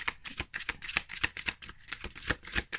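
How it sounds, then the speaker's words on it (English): A deck of matte-finish tarot cards being shuffled by hand, a close run of rapid riffling and snapping bursts in an uneven rhythm, with no talking. "So I'm shuffling the cards, and it's not too bad."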